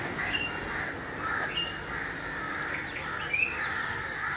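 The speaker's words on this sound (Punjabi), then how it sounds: "ਇਹ ਬੁਲਬੁਲ ਬੋਲ ਰਹੀ ਹੈ" Crows caw and a bulbul sings at a village water reservoir outdoors, with short bright calls repeating over a steady open-air background hiss, moderately distant and without speech.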